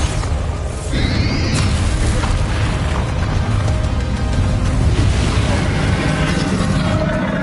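A Bombarda explosion spell is cast during a dragon fight in the Hogwarts Legacy video game, with a sharp whooshing cast followed by a loud, sustained rumbling boom and roar of battle.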